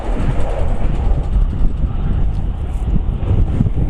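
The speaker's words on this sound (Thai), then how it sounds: "มีรถไฟวิ่งมานะครับ" A steady, heavy rumble of a train rolling across the Storstrom Bridge in Denmark, broadband and continuous with wind-like roar throughout, no voices.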